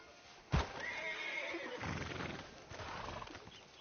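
Horse in Red Dead Redemption 2 gives a loud, sharp whinny near the start, followed by a steady clip-clop of hooves and ambient game sounds.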